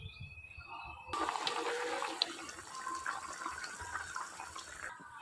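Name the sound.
water boiling in a pot of fish curry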